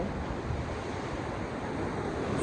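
Rough sea off the Jamaican coast churns in a continuous roar of surf and breaking waves, buffeted by wind noise on the microphone, loud and unbroken with no voices.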